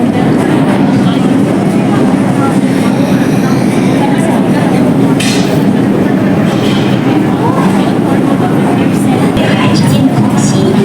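A Hong Kong MTR train pulling into a platform, its steady loud rumble and wheel noise filling the whole stretch under the hum of the station.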